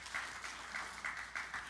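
A church congregation applauds together, a soft, distant patter of clapping with rhythmic swells, heard alone without talk.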